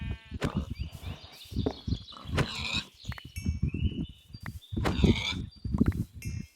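Minecraft farm animals bleat and grunt in quick, close bursts, a busy run of sheep-like calls and snorts overlapping one another.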